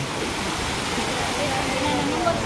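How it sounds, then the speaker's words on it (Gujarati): Steady rushing water pours continuously, loud and close, like a stream or small fall, with a voice faintly underneath at a fair in Gadhada. "મિત્રો આને કહેવાય પાણી આ છે પાણી"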